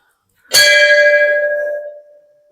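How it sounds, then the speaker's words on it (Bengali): A single strike of a metal bell at a Shiva temple in Namchi rings out clearly and close, its bright tone decaying over about two seconds. "ঘন্টাও বাজালাম।"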